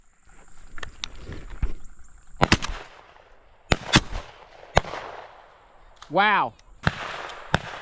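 Shotgun blasts ring out at a Tennessee dove hunt opener: about ten sharp reports, some close and loud, others more distant, spaced irregularly. People talk and exclaim between the shots, and a brief rising-and-falling whistle cuts through near the end.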